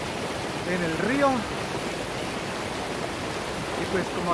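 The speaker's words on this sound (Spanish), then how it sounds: "Estamos aquí en el río." A river stream flowing in Colombia's Cocora Valley, a steady close rushing wash under brief voices.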